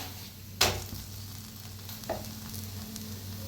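A paneer paratha crisps on a hot pan over medium heat, giving a low steady sizzle with a couple of sharp clicks or scrapes, close and alone.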